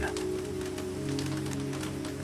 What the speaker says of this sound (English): The rain continues its song, soft, constant